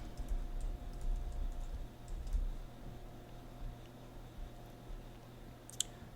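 Faint, quick keystrokes patter in short bursts over a low background hum, ending with a sharper click.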